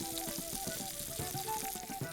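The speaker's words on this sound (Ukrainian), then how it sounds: "Як воно шкварчить." Steady crackling sizzle of liver frying in a hot pan, close and continuous, with faint scraping and clinks underneath.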